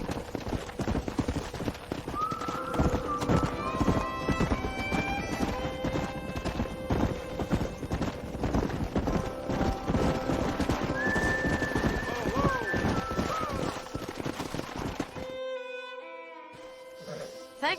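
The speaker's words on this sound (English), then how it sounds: "We got some fine horses." Horses whinny and neigh repeatedly over steady clip-clop hoofbeats in a Red Dead Redemption game scene, loud and close, with a sharper clatter near the end before fading into quieter game ambience.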